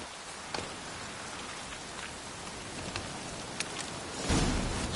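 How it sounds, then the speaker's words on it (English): Steady rainfall in a video game, a soft, even hiss of drops with a few sharper patters and a brief heavier gust near the end, heard alone without talk. "Looks like rain."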